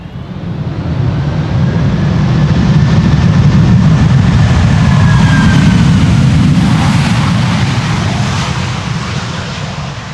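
A 17-year-old airliner roars in for a crosswind landing at Amsterdam Schiphol Airport. The loud, broad engine rumble swells over several seconds, holds near, then slowly eases, with no voices.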